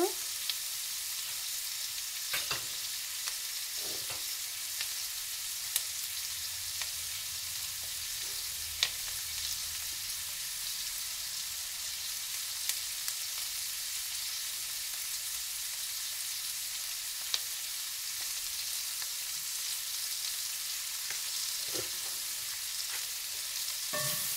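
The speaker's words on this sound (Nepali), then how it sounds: "अब चाहिँ मैले यसरी नै यसलाई केही बेरसम्म भुट्छु" Asparagus stir-frying in a pan, a steady close sizzle throughout with occasional soft clicks and scrapes of a spatula.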